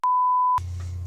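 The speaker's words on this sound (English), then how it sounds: "I'm going to have to beep all that out" A single steady censor beep tone runs for about half a second, loud and alone, then cuts to a low background rumble.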